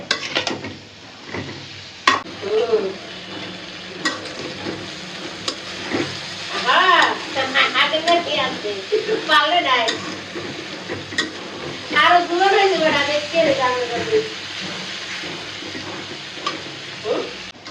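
Bitter gourd and shrimp being stir-fried with a little turmeric in a pan, a steady sizzle broken by scraping and stirring strokes, with someone talking intermittently over the cooking.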